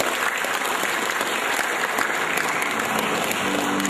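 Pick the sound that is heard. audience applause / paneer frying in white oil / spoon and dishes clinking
audience applause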